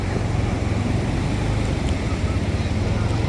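Beach waves and wind roar together in a close, constant wash, with heavy low-end wind buffeting the microphone throughout.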